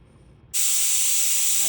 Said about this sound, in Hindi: 5 से 6 विसल इसकी आ चुकी है